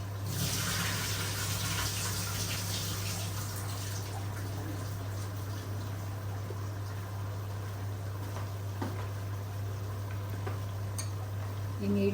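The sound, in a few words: draining water off soaked rice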